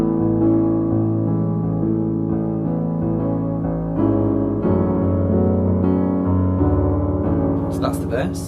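Solo piano playing a song, a gentle run of sustained chords and melody notes moving through several changes, close and steady with no talking.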